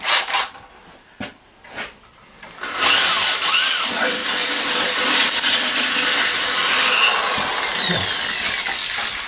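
A power drill bores through a part of a 1974 Honda XR75 motorcycle ignition system; a few sharp clicks and taps come first, then a sustained, loud whine of drilling runs close up to the end.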